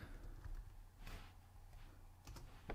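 A few sparse, soft keystrokes on a Mac computer keyboard while typing into a search bar, quiet, close-up clicks separated by pauses over a low background hum.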